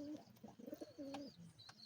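Pigeons at a home loft, including a large female, give soft, close cooing calls in a few rolling phrases with brief pauses, fairly quiet overall.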